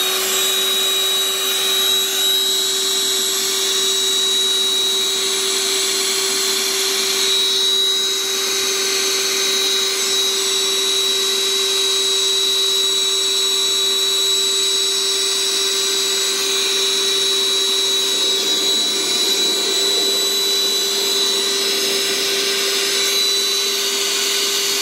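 An Intex Quick Fill electric air pump runs close and loud with a constant high-pitched motor whine and steady airflow roar while it deflates an inflatable, unbroken for the whole stretch.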